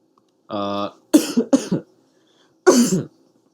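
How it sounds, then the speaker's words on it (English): Several close, sharp coughs in short bursts, preceded by a brief hum, with quiet pauses between them. "Apologies for the cough."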